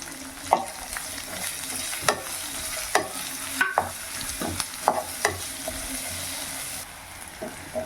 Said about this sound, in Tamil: வெங்காயம் நல்லா செவந்து பொன்னிறமாக வந்துருச்சு பாருங்கள்